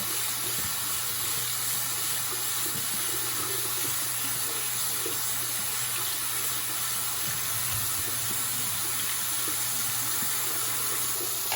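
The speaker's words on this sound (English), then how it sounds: "let this run and get some hot water." Hot water runs from a sink tap in a steady, loud hiss and splash, unbroken the whole time with no talk over it.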